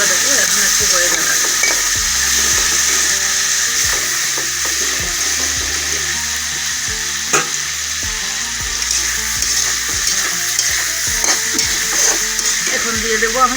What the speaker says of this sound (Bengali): তারপর এখানে দিয়ে দেবো আমি পেঁয়াজটা একটু নাড়াচাড়া করে